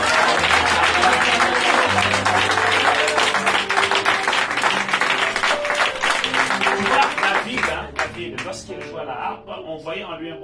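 A church congregation at a Christian revival service applauds and cheers for God, a dense, steady roar of clapping and voices with musical tones underneath, easing off slightly toward the end.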